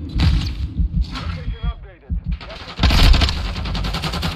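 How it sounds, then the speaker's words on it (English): Airstrike explosions and rapid gunfire in the Call of Duty Modern Warfare 2 video game, a dense run of loud blasts and bursts with a voice talking over the action. "I'm airstriking the spawn."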